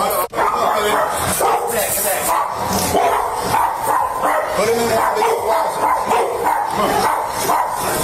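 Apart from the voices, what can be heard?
dog barking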